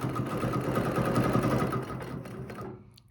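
A sewing machine stitching along a ruler runs in a fast, steady mechanical whir with rapid rhythmic clatter, close by, then slows and stops near the end.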